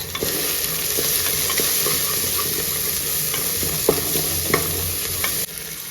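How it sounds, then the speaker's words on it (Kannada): Turmeric and chilli powder fry for a millet pulao, giving a steady, close sizzle with occasional stirring scrapes and small pops throughout, and no one speaking. "ಇದಕ್ಕೆ ಒಂಚೂರು ಅರಿಶಿನ ಹಾಗೆ ಒಂಚೂರು ಖಾರದ ಪುಡಿ ಸೇರಿಸ್ಕೊಳ್ಳೋಣ. ಇವಾಗ ಚೆನ್ನಾಗಿ ಫ್ರೈ ಆಗಲಿ."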